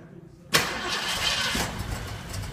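A classic 1966 Ford Mustang convertible engine cranks and catches with a sudden loud burst, then settles into a rough, steady running roar that continues alone to the end.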